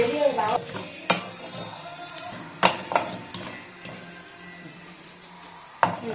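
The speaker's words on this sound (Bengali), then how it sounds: "শাহমরিচ আর শাহজিরেটা ড্রাই রোস্ট করে নিচ্ছি।" Black pepper and caraway seeds dry roasting in a pan for mutton biryani, heard as sharp metallic clacks of a spoon against the pan at irregular intervals over faint rattling and stirring, with no voices.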